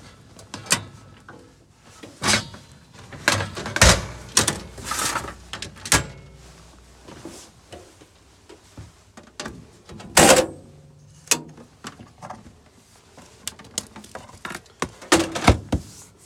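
Cupboard fixtures in a 2.5 turbo diesel Autosleeper Legend motorhome click and clunk shut again and again, sharp solid knocks at an uneven pace, close and clear with only faint background between them.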